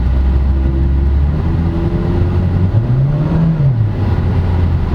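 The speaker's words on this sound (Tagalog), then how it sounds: "There's the tire noise, but it's not as loud." Road and tire roar inside a 2012 Mitsubishi Lancer EX GLX automatic on eco tires, a loud steady low hum with engine drone rising and falling briefly, no talk.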